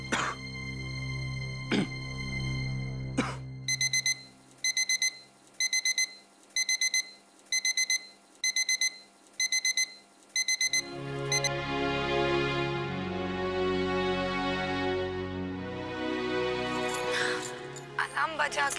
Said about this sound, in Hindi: अलार्म बजा क्या? हाँ, बज गया।